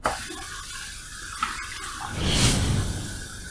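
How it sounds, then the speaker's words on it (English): Water starts pouring from a faucet into a sink partway through, a rushing splash after a few faint clicks and quiet room noise. "I turned the faucet on and I drained all the old water that was remaining there"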